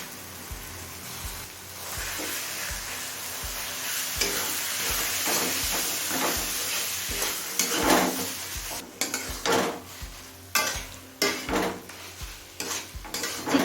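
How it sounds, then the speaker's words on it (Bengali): Chicken mince frying with spices in a pan sizzles steadily while a spoon scrapes and stirs in repeated strokes, with sharp metal knocks against the pan growing busier toward the end. "সমস্ত মশলা কষিয়ে নিয়েছি এবার দিয়ে দিচ্ছি তিনশো গ্রাম চিকেন কিমা"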